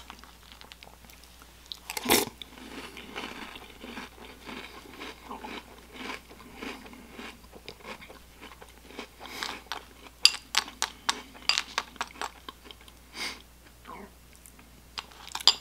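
Someone chews Kellogg's Great Pumpkin cereal, a crunchy puffed cereal, close to the mic, giving a quiet, steady run of crisp bites and crunches that grows denser toward the end, with no talking.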